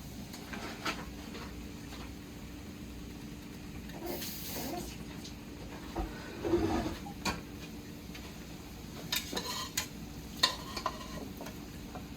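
Cooked red beans being added and stirred into a pot with onion over a stove, giving a low steady sizzle with scraping stir sounds and a few louder clatters near the middle.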